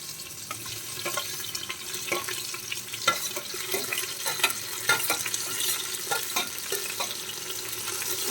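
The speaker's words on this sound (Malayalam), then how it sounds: "നന്നായിട്ടൊന്ന് വഴറ്റിയെടുക്കാം." Thinly sliced onions sauté for mutton biryani, a steady sizzle broken by repeated stirring scrapes and clinks of a spoon against the pan, close and moderately loud with no speech.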